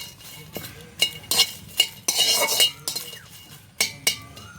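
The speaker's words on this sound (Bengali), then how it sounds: "একটু নাড়াচাড়া করে নেব" Bay leaves, dried red chillies and cardamom pods stirred in a pan for sweet-sour mango pickle, with a run of sharp metal spoon clinks and scrapes against the pan, close and fairly loud, spaced irregularly with brief rustling between.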